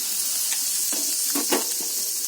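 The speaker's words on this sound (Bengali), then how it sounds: "ভালো করে আলুটা ভেজে নিয়ে কষে নেব" Potatoes fry in oil with turmeric and chili powder, giving a steady close hiss of sizzling with a few brief stirring scrapes.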